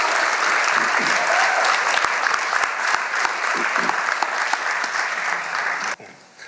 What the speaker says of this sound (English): A round of applause for Dion as he comes to share.